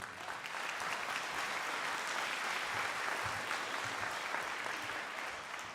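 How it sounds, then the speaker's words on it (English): Steady applause from a large crowd at a college graduation pinning ceremony, a continuous wash of clapping that holds for several seconds with no voices on top. "Another big round of applause for them."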